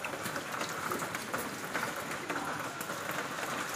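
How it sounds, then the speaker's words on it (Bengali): Rain falling outdoors, a steady dense patter of drops across the whole span, moderately loud and close, with no clear talking. "বৃষ্টি পড়ছে এখন"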